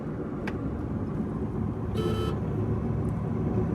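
A Maruti 800 running on E20 petrol cruises along a highway, its steady engine and road rumble droning continuously, broken by a faint beep and a brief hiss of passing wind or traffic; no speech.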